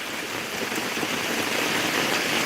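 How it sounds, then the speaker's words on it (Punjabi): Heavy rain pours down in a village, a dense, steady hiss of drops on surfaces filling the scene at close range, unbroken and with no voices. "ਮੀਂਹ ਤੇਜ਼ ਆ"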